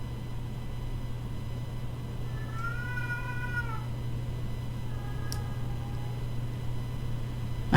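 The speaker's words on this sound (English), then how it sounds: "I have a cat. She likes to whine." A pet cat meows and whines close by, one drawn-out rising-and-falling meow followed by a shorter second cry, over a steady low background hum.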